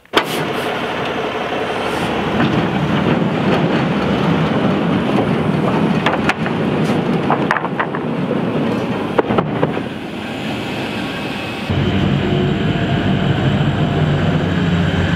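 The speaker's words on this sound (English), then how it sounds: "now what he's going to do is going to raise the trailer up and that'll kind of get it to tilt" A truck-mounted trailer with a roller bed tilts upward to unload huge 66-foot roof trusses, producing a loud, continuous engine drone with occasional metallic clanks and a brief dip before the rumble returns.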